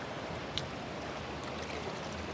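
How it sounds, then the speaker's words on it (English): Water swirling and rushing through a gold pan held in a stream, washing light sand off toward the black sand; a steady broadband wash with a faint splash, no talking. "I push the pan into the water and the water rushing in lifts the light sand off"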